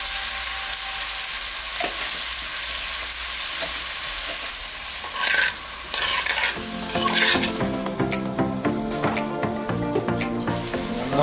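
Food sizzles and frying in a pot on a home stove while ingredients for a Sunday dinner of goat and fish are stirred, with a steady hiss and scraping, clattering stir strokes that grow busier and louder toward the end.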